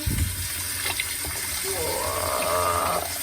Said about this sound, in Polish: Wlewamy tutaj wodę.